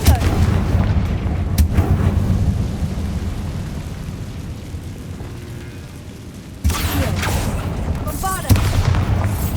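Confringo spell blasts in the game Hogwarts Legacy: heavy rumbling booms roll on continuously, with a fresh loud impact hitting near the end and another sharp burst just after, while a voice talks faintly underneath.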